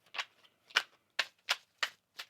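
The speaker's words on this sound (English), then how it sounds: "Let's get one more shuffle here." Tarot cards being shuffled up close: six quick, crisp riffling bursts evenly spaced, with short silences between them and no talking.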